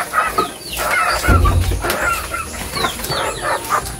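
A chicken clucks in short, close bursts while being held, with occasional rustling and flapping amid a quiet backyard farm setting.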